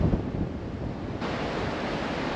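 Wind buffets the microphone on an open golf course, a steady broadband roar with a stronger gust at the start, no voices.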